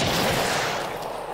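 A gunshot from the zombie shooter game The Brookhaven Experiment, a loud dense blast whose rumbling tail fills the whole short moment and fades slightly toward the end.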